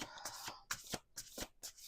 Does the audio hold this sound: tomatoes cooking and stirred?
no